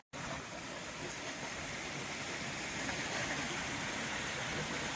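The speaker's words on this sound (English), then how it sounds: "I never get sick of walking near, over, or across this water. It just sounds awesome." A stream flows beside a hiking trail, a steady broadband rush of moving water that stays loud and even from start to finish with no voices.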